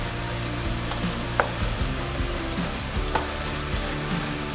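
Onions hiss gently in a pan with browned meat for chili con carne, a low steady sizzle broken by a few scraping stirs and light utensil knocks, close and without speech.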